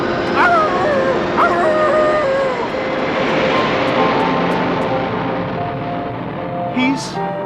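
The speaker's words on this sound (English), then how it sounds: "Stop that plane!" A loud airplane engine roars continuously nearby as the plane takes off, with faint higher whines and shouting briefly cutting through the drone.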